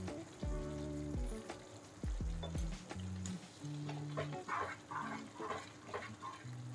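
Bundi laddu mixture sizzling and cooking in a pan with cardamom powder, a soft, steady bubbling hiss under faint background music, with occasional spoon scrapes.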